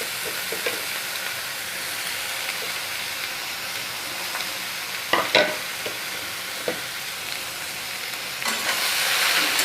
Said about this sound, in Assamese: এতিয়া বেঙেনা আৰু আলু কাটি থোৱাখিনি দি দিম।